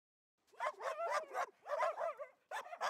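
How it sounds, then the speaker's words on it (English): A dog barks in a quick run of short, close yips and woofs, grouped in bursts with brief pauses between them. "We're dogs and we're animals."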